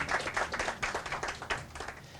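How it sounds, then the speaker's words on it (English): Applause from an audience at a Prince George's County jobs and employment event, a modest steady patter of clapping from a small crowd, fairly quiet and continuous throughout. "give him a round of applause"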